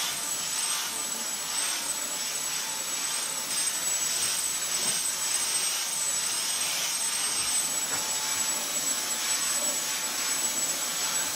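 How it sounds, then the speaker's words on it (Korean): A Dyson V10 cordless vacuum cleaner runs steadily with a high whine and airy rush, close and loud, holding a constant tone throughout with no speech. "V10을 메인 청소기로 쓰고 V7은 서브 청소기로 쓰려고 했거든요"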